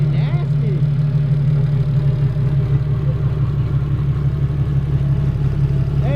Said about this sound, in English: it's actually idling normal.